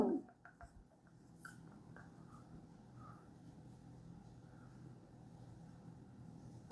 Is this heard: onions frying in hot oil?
no